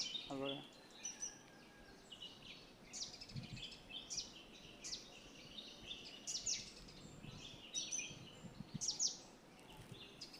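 Scattered bird chirps and calls ring out in a morning forest in the Konkan region, over a faint, quiet background, with soft repeated tweets at intervals and no talking.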